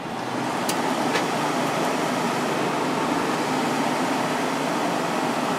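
A 2002 Whirlpool 5,000 BTU window air conditioner runs on fan only, a steady broadband whooshing hum at constant loudness, close, with a couple of faint clicks near the start.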